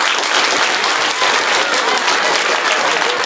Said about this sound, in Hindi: इनके लिए भी ताली चाहिए